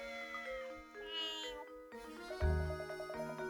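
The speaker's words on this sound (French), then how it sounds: "vous amenez un chat sur le lieu d'un crime" A cat meows in a Professor Layton video game, giving a short, clear mew over gentle melodic background music, fairly quiet overall.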